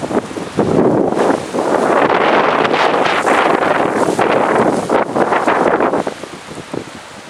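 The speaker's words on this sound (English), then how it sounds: "It's windy as hell out here." Strong storm wind roars and gusts continuously outdoors among older trees, loud and buffeting the microphone with rushing, surf-like swells that ease slightly near the end.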